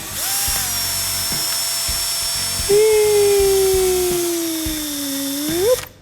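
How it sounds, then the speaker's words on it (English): A small hand drill motor whirs steadily while twisting wires together, its pitch rising at start-up and climbing again near the end as it spins. "I'm just gonna twist them up using my hand drill, just like this"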